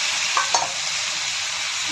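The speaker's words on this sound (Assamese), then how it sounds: "শুকানকৈ অকণমান সময় ভাজিলোঁ" Spices are dry-fried and stirred in a pan over a soft, even sizzle, with a couple of light scrapes and clicks near the start.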